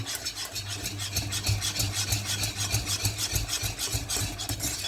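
Butter caramel boiling in a pot bubbles and crackles in a steady rapid rhythm, close and moderately loud, with a low hum underneath.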